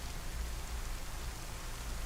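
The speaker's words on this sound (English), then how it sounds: "And it's raining heavier now" Heavy in-game rain in DayZ: a steady, even hiss of downpour with no distinct drops or pauses, moderately quiet and unbroken across the short stretch.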